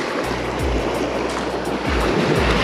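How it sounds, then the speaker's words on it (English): Surf breaking along a beach at a fishing spot, a loud continuous roar of waves with rolling low surges as breakers crash close by, no voices present. "And you can see the waves breaking here."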